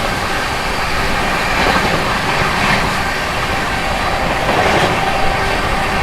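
A superfast express train, the 12393 Sampoorna Kranti Express, running at about 130 km/h while overtaking the Danapur–SMVT Bengaluru special, heard from on board as a steady, loud roar of rolling wheels and rail noise with faint clattering throughout.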